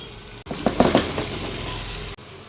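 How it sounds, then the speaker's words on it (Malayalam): Tomatoes stirred into a pan of already softened onions and green chillies, a steady close sizzle with a few scraping stir clicks near the start, broken off by a brief gap at each end. "ഇതൊന്ന് വഴറ്റിയെടുക്കാം"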